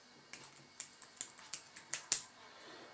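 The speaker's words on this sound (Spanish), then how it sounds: "Le damos al Enter. Como veis, el teclado va fenomenal." Typing on the keyboard of a Cube i7CX tablet running RemixOS, seven or eight crisp, separate key clicks spaced unevenly, close and fairly quiet, with the final keystroke landing hardest.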